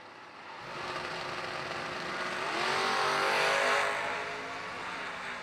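Drag race launch with a Chevrolet S10 and a Ford Mustang, a loud sustained engine roar that swells to a peak midway and then eases, with no talk over it.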